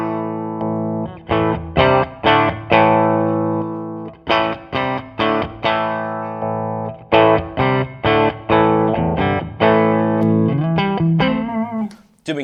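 Distorted electric guitar chords played through an effects pedal in an amplifier effects loop, strummed in bursts with short pauses, loud and close, ending on a wobbling sustained note.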